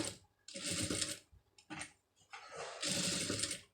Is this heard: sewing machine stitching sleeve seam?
yes